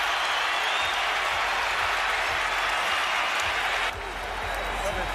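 A large boxing arena crowd at the Kovalev vs. Ward fight applauds and cheers in a continuous dense roar, loud and sustained throughout.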